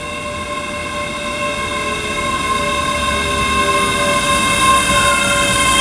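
ScotRail class 385 electric unit 385044 approaching Dunblane station as the 0830 service to Falkirk Grahamston, its steady tonal electric whine and rolling hum growing slightly louder throughout, heard alone without voices.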